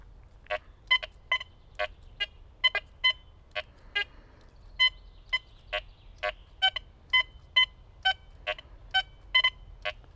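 A Quest X10 IDmaxX metal detector sounds a long series of short electronic beeping tones in an irregular, rapid rhythm, fairly close and alone over faint background hum.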